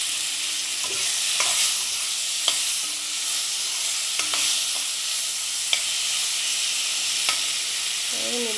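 Mango pieces are stirred in a hot frying pan for a sour mango fish curry, with a steady sizzle under repeated light scrapes and clicks of the spoon against the pan.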